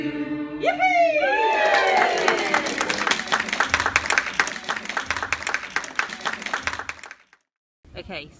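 A group at a 15th anniversary celebration gives close, lively clapping for several seconds after voices call out at the start. The clapping thins and stops abruptly, then a short burst of voice follows.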